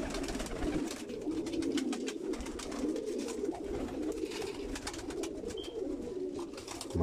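Pigeon cooing, a low murmuring coo that repeats through the stretch over steady background noise, with no voices.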